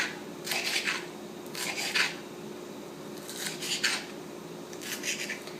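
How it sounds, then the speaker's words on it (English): A knife slicing bell peppers into small strips on a cutting board, four short bursts of crisp scraping cuts at an even pace, close and moderately loud, no talking. "I just cut it on small strips, and then we will chop it even more."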